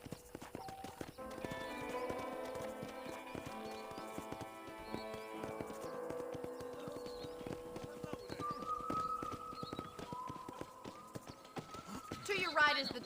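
Horse hooves clip-clop steadily in the Red Dead Redemption video game, a rhythmic trotting patter under a man's speech and light music, with a whinny near the end.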